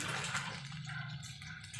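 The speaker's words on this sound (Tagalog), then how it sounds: "Dagdagan ng tubig." Water pours into a cooking pot for a simple Filipino dish, a short, soft splashing rush that is faint and close.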